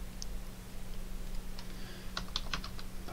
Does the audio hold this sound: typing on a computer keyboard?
yes